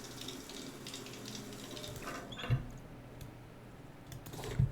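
A shower runs inside the Stationeers survival video game, a soft, steady hiss of flowing water with faint patter and a couple of brief clicks, quiet and without talk.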